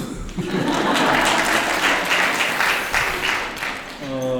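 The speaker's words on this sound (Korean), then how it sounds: "예, 박수." A seated audience at an education policy talk event in Ulsan applauds in a dense, even burst of clapping lasting a few seconds, with a speaker's voice returning at the very end.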